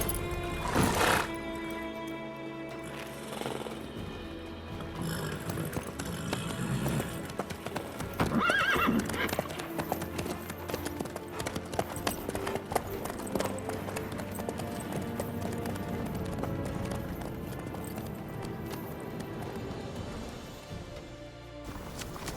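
Galloping horse in a video game, with rapid continuous hoofbeat clip-clops throughout, a whinny near the start, and busy background sound alongside.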